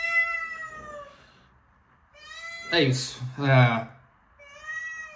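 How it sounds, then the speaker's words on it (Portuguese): A house cat meows repeatedly, several separate drawn-out cries with pauses between, close and clear, with a brief spoken phrase mixed in among them. "até no chato do meu gato que não para de miar"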